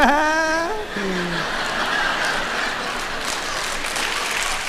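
A live comedy audience breaks into steady applause mixed with chuckles, after a brief laughing voice at the start, sustaining a dense crowd roar of clapping.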